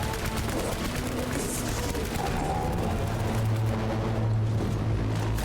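Assault rifle fire in Death Stranding, with dense, continuous shooting over a loud, churning combat backdrop that carries on steadily without a break.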